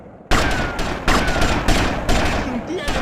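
Gunfire in the video game GTA Vice City Stories rattles in several close, loud bursts after a brief quiet start, each volley sharp and dense, with a voice murmuring faintly underneath.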